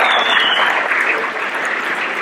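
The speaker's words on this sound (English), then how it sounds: "Huge round of applause to everyone." Dense, steady audience applause fills an airfield hangar at an air show event, loud and close throughout with no pause.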